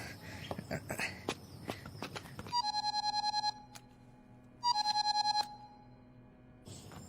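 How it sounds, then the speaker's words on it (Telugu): A mobile phone rings in two electronic bursts of rapid, chirping tones, loud and close, after some footsteps and scuffling at the start. "బ్రదర్ ఫోన్ అందుకో."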